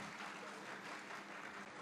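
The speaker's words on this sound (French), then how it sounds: "Applaudissements, s'il vous plaît, pour" Audience applause at an academic conference on participatory democracy and governance, honoring a professor after his talk; steady, dense clapping from a crowd that fills the whole moment without pause.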